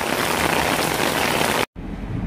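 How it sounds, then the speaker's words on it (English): Heavy pouring rain on a Central Florida night roars as a dense, loud, steady wash, briefly cut to silence before resuming just as strongly. "it was pouring rain outside for pretty much, I'd say a good 2 hours that we were there"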